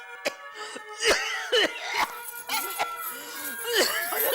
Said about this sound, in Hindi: अचानक खांसी कैसे शुरू हो गई?